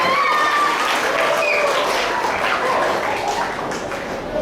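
A crowd applauds a young soccer player at a primary school sports celebration, steady dense clapping throughout with a few faint whistles and voices mixed in, easing slightly toward the end.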